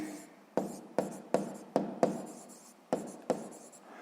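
Pen or pencil writing on paper during a sixth-grade maths lesson, a series of about eight sharp stroke onsets, each followed by a short scratching trail, close and clear with no talking.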